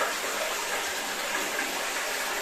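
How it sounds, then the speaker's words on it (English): Water pours steadily from an old holy well with a disused metal pipe, a continuous close, even rushing and splashing that fills the whole clip without any voices. "Just pleasant to stand here and watch the water coming out."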